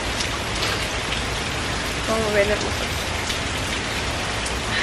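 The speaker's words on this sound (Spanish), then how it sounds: "mami, está lloviendo" Rain falls steadily on outdoor surfaces, a dense, even hiss throughout, while someone briefly speaks over it midway.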